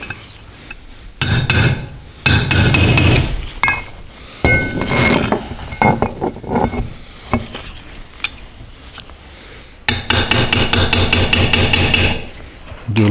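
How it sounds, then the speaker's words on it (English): Sharp metallic hammer strikes drive pins out of the dovetail housing of a Jancy Slugger JM101 magnetic base drill during a rebuild, coming in close, loud clustered bursts of ringing taps separated by short pauses. "that's what's going to take the pushing the pins out of the housing with the dovetail"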